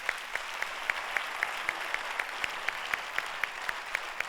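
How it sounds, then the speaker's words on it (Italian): A theatre audience at a Neapolitan song show in New York claps steadily, with a few sharp, close, regular claps standing out over a softer, fairly quiet wash of applause. "Applauso a New York."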